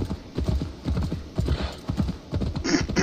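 Horse hooves clip-clop at a steady gallop while riding downhill in Assassin's Creed Valhalla, a rapid, even rhythm of close, moderately loud thuds, with no one talking over them.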